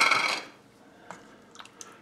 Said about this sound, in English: we're going to stir